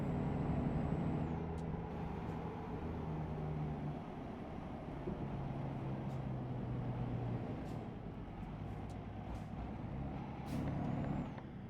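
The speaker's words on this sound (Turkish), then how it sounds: "Hani az bir şey frene bastım." A heavy truck in Euro Truck Simulator 2 slowing down, with a steady low engine rumble and road drone throughout and brief hissing air brake releases breaking in faintly now and then.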